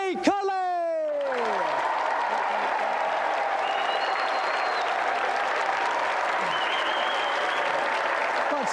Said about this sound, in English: a round of applause for our challenger, Warren Brazier, and the undefeated champion